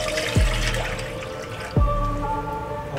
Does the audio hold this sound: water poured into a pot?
yes